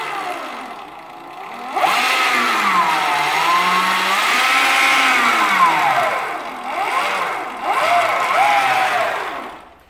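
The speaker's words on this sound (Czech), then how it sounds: "přidám plyn, pouštím to na spojku, kolo se roztáčí plynule" Electric Motion motorcycle fitted with an electronic clutch, its electric motor whining loudly as the throttle opens and the wheel spins up smoothly, rising and falling in pitch through several revs with no voice over it.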